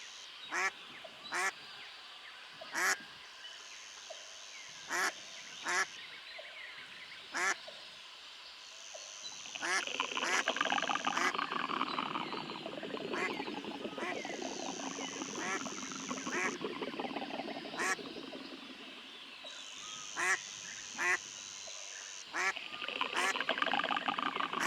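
Ducks on a lake beside a seawall under construction quack repeatedly in loud, close, regular bursts, with a stretch of harsh rumbling noise and repeated beeps between the calls.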